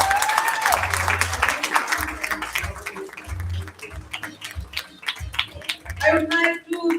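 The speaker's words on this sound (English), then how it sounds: "Let's give her a well-deserved applause." Audience applause at a company townhall after an employee is congratulated, a steady wash of many hands clapping at moderate volume, with talking over it in places.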